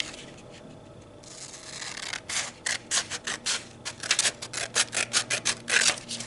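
Scissors cutting out a paper shamrock square, a run of quick crisp snips and rustles following a quiet stretch, close and alone without talk.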